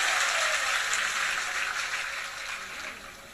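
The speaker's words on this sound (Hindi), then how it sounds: "एक बार जोरदार तालियां बजानी चाहिए।" Applause from the congregation at a Hindu religious gathering during a Bhagavat katha, a dense, even patter of clapping that gradually fades over a few seconds.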